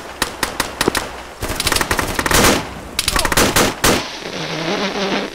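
Gunfire in the military shooter Arma: sharp single shots give way to rapid automatic bursts and a dense volley of cracks, loud and close, with a voice briefly heard amid the shooting.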